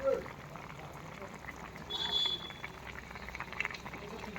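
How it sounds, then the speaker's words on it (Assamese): Pork belly simmering in a pot with malpok greens, a quiet bubbling boil with soft liquid gurgles running throughout, fairly close. "গাহৰি পেটুটোৰ পৰা উতলিব দি আছোঁ শাকৰ লগত।"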